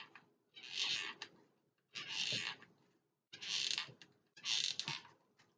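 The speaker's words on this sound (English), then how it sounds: "Sorry for the squeaky noise, I'm sure that's annoying." Four loud squeaky bursts, each about a second long with short gaps between, made while gluing Christmas decorations by hand, close and sharp with no talking.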